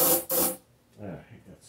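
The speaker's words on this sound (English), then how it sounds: "I don't like spraying starting fluid, but maybe it needs a little kick." Short hissing bursts of starting fluid sprayed from an aerosol can into the engine of a John Deere D170 lawn tractor, two loud close spurts followed by quieter rustling.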